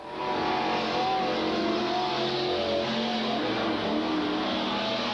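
A super stock race car laps Freedom Raceway in 1993, its engine a continuous roar with shifting, rising and falling pitch, heard from a moderate distance and unbroken by talk.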